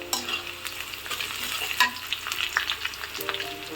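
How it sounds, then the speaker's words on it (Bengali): Chopped onion and garlic frying in a pan, a quiet continuous sizzle broken by a few sharp utensil clicks and stirring scrapes, with no talk. "পেঁয়াজ দিয়ে এগুলোকে একটু ভেজে নেব"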